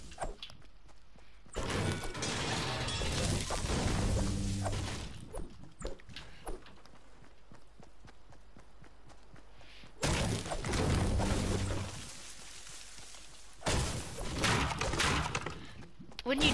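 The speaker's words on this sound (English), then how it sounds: "When you destroy fences, it kind of makes a weird noise." Wooden fences being smashed in the video game Fortnite, with bursts of crunchy breaking and thudding impacts in two main clusters, interspersed with footsteps and quieter game sounds.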